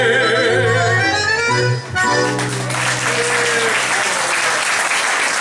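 Audience applause fills a club after a live tango milonga performance, beginning as the last sung note fades and swelling into steady, dense clapping that continues to the end.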